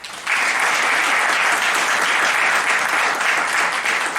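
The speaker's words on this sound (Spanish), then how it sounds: "Un aplauso también." An audience at a university faculty's 50th anniversary event breaks into applause after a brief pause, dense steady clapping that stays loud and even for about four seconds.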